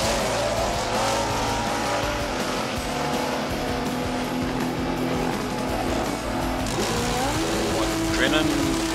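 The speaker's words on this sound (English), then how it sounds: "Drennan warming up with the Harley Davidson, and it sounds like Ann Hilda warming up alongside" A Harley-Davidson drag racing bike warms up at a drag strip, its engine a steady loud drone with another bike idling alongside, while a commentator talks over the engine noise throughout.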